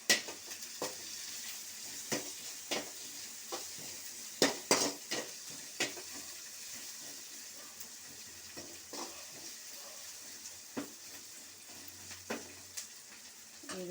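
Thinly sliced green chillies fry in hot oil in a pan for homemade egg curry, giving a steady sizzle punctuated by repeated sharp clinks of a spatula stirring against the pan.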